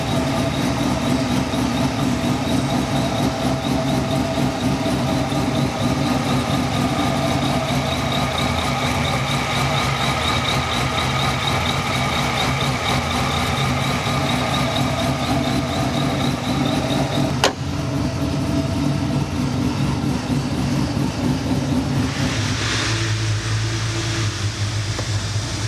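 A Procharged F1A-94 supercharged Cadillac CTS-V roars on a dyno in a sustained loud, droning pull with a high supercharger whine riding over the engine note, then the revs abruptly drop and settle into a lower rumble near the end.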